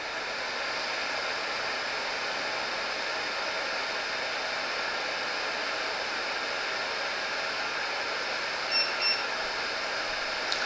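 A Silvercrest SRHV 2000 fan heater runs with a steady, fairly quiet airy whir throughout, with a couple of faint beeps near the end.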